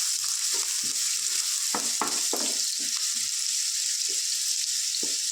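Finely chopped onions fry in hot oil for mutton sukka, giving a continuous hiss with scattered stirring knocks and scrapes at close range and no voices.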